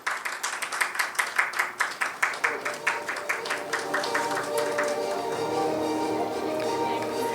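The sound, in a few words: audience applause at healthcare awards ceremony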